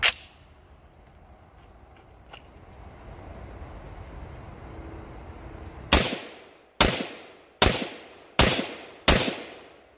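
Rifle shots fired through a VG6 Epsilon muzzle device at a range: five loud, sharp cracks about a second apart, each ringing off briefly. Before them comes a quiet stretch of handling and faint background noise.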